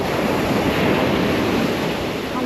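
Ocean waves wash onto a beach and drain in and out of a small tide pool, a steady, fairly loud broadband surf with wind and no talking.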